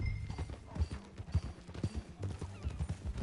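Horse hooves clip-clop steadily in Red Dead Redemption 2, a continuous trotting patter close by over a dense low rumble of game sound, with no clear talking.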